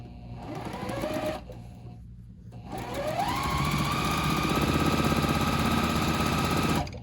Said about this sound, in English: I'm just going to chain piece all these into pairs